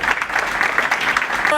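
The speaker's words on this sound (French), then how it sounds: "on applaudit" An audience applauds to welcome a group onto a stage, dense even clapping throughout, with a voice starting to speak at the very end.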